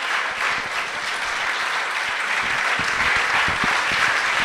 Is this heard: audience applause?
yes